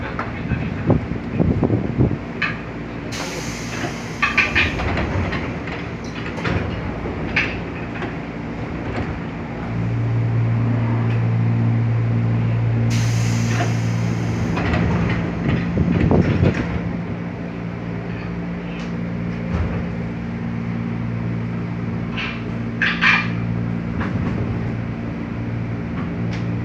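KRL Commuter Line electric train travelling from Jakarta Kota toward Bekasi, a steady rumbling ride with wind noise, a sustained hum in the middle and brief rattles, heard from inside the carriage.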